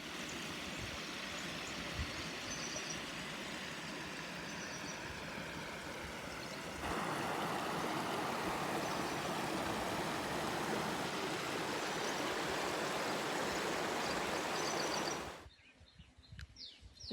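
Flowing water of the Salgi river beside a walking path, a broad continuous rush heard close and steady, growing slightly louder midway before dropping off abruptly near the end.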